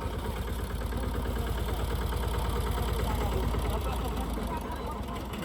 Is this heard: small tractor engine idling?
yes